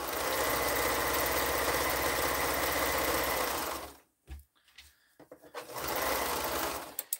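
A sewing machine stitches a quilt spike through layered fabric. Its steady, close whir runs for about four seconds, stops for a brief pause with faint handling noise, then starts stitching again.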